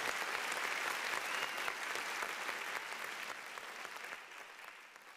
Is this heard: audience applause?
yes